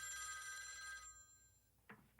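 A telephone bell rings loudly for about a second, a steady electronic trill that stops abruptly, leaving quiet room tone and a brief soft bump near the end, with no voices.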